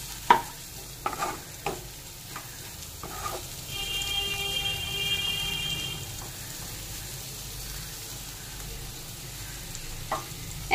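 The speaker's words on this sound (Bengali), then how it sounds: "এমন ভাবে নাড়তে হবে কি যতক্ষণ না যে আলুর গাগুলো একটু লাল হয়ে যায়" Jeera aloo in the pan, potatoes frying with cumin while being stirred. A soft continuous sizzle runs throughout, with close scrapes and occasional clicks of the spatula against the pan and no voices.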